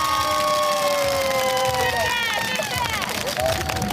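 A crowd screams and cheers along a street at the Taipei Olympic heroes parade, with rising whoops and shouts over a dense babble of voices.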